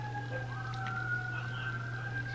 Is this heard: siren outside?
yes